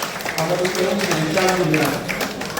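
An audience at a youth swearing-in and awards ceremony in Bikaner claps in a sustained, scattered round of applause, with an announcer's voice over it.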